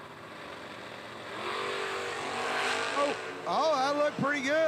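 Camaro drag race car at a Laris Motorsports event, its engine building to a loud roar over crowd noise, with a voice talking over the final seconds.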